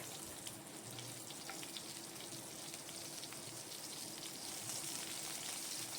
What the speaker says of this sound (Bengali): প্রথমে আমি তেলে কালো জিরে ফোড়ন দিলাম আর কাঁচা লঙ্কা দিয়ে দিলাম